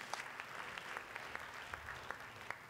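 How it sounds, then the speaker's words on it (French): A few scattered, distinct hand claps sound faintly at an academic thesis presentation event, welcoming a speaker onto the stage, sparse and uneven over low room noise. "Sous vos applaudissements."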